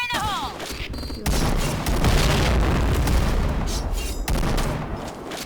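Loud grenade blast in the shooter game Point Blank, a broad rumbling boom that swells after a brief quiet gap and sustains with crackling debris and gunfire-like bursts for several seconds.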